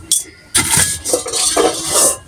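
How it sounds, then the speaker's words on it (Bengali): A steel kadai, a deep cooking pot, is set down and moved about, giving several sharp metallic clanks and scrapes in irregular bursts, fairly close and loud, with no talking. "এই যে আরেকটা সিলভারের কড়াই।"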